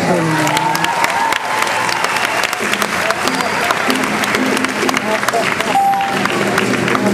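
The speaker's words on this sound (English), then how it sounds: "bowing to thunderous applause" Loud, sustained applause from a large audience, dense clapping with some cheering mixed in throughout.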